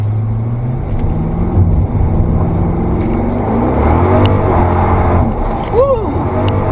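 A Pontiac GTO engine idles and rumbles nearby, its low throbbing note shifting in pitch with a brief rev near the end, while a voice talks over it.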